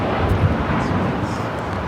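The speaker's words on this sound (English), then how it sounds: "This is Japan Airlines Flight 69 taking off to Osaka on the 787-9 Dreamliner" A Japan Airlines Boeing 787-9 Dreamliner takes off at Los Angeles airport, bound for Osaka; its engines give a loud, steady, broadband roar that holds evenly throughout without any talking.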